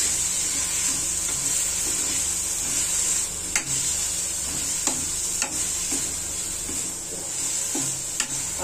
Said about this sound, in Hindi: इसे चला लेंगे बढ़िया से।